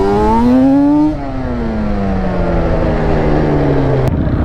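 A Honda quad's engine drones loud and close while being ridden, its pitch climbing briefly, then sagging into a steady lower hum as the throttle eases, all without talk.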